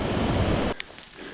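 A forest stream and waterfalls rushing in the rain make a loud, steady broadband roar that cuts off abruptly, leaving faint ambience with a brief tick.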